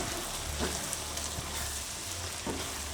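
Tomato and green garlic chutney sizzles gently in oil in a pan, a soft, even frying hiss with a few faint stirring scrapes.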